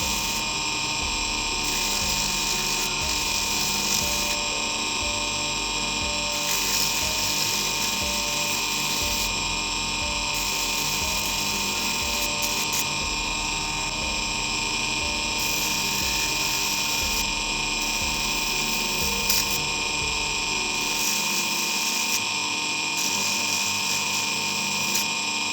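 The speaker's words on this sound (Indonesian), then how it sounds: "Di belakangnya juga diamplas" A rotary tool sands the back of a handmade brass flower ring, a continuous high whining buzz that holds steadily close up, with small shifts in pitch and pressure and no speech over it.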